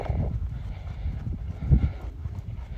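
Horse hooves trotting on soft ground during flying lead change schooling, a steady muffled rhythmic clip-clop close by with continuous low rumble and no talk.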